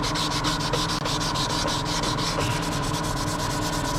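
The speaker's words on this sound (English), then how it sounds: "I'm just running over it with some P600 again, to make sure we got a nice mating surface." Steady back-and-forth rubbing of P600 sandpaper by hand over a metal mating surface where a car sump was pried off, close and continuous with an even rhythm and no talk.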